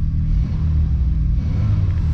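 A Volkswagen Jetta Mark II car engine runs at a steady idle, a deep continuous rumble close by with no other sounds.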